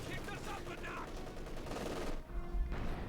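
Rapid gunfire and impacts from a World War II battle in the strategy game Company of Heroes 2 rattle through a dense mix of battle noise, with a brief drop near the end before the fire resumes.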